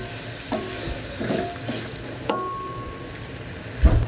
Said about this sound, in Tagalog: Tapos, mix lang po natin ito.